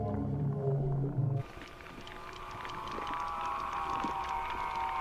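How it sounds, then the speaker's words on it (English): Recorded Basilosaurus whale calls blast from a massive speaker out into the open ocean: a long, steady, droning moan that fills the clip, following a brief lower tonal burst at the start. "that's his calls, but we're playing them right out into the ocean with a massive speaker"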